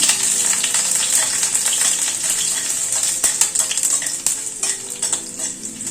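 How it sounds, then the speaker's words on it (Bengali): Garlic cloves sizzle steadily in hot oil left over from frying, frying to deepen their flavour, with continuous crackle and scattered clinks and scrapes of a spoon stirring the pan close by. "রসুনের ফ্লেভারটাকে একটু স্ট্রং করার জন্য রসুনটাকে ভেজে নিচ্ছি"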